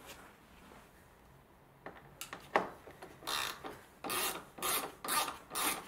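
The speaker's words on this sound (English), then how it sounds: "we need to take another T25s that are on this plastic" T25 screws are worked out of a plastic headlight mount on a VW Golf Mk5, heard as close, quiet scratchy rasps and several louder, rhythmic grinding bursts of the tool.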